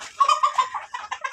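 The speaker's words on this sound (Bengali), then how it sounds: "এখানে ছোটোখাটো একটা ফার্মে মুরগির খামার আছে আমার কাছে।" Young Egyptian Fayoumi chickens, about three months old, cluck on a small farm in a close, busy run of short repeated calls with no talk.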